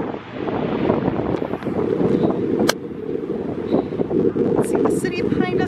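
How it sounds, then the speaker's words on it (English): Wind gusts buffet the microphone outdoors at the Minneapolis Sculpture Garden, a steady, loud low rumble lasting throughout with a brief dip, and muffled voices faintly underneath. "the wind is a blowing"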